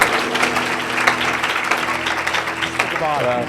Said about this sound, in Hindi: मेरे यीशु के लिए जोरदार तालियां बजाइएगा।